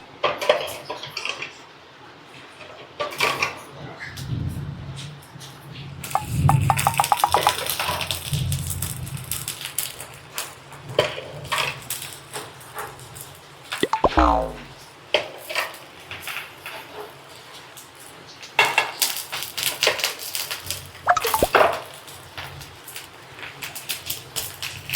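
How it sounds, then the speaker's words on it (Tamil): Oil poured around a half-boiled egg in a hot pan, setting off bursts of crackling, spattering sizzle that swell and fade in waves, with clinks of utensils in between. "நெக்ஸ்ட் நம்ம சுற்றி எண்ணெயை ஊற்றிடுறோம்."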